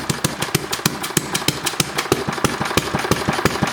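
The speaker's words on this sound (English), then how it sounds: "It's missing. It's galloping instead of running right." Small engine misfiring and galloping, with a steady fast pulse of exhaust beats broken by uneven, skipped firings, loud and close without talk.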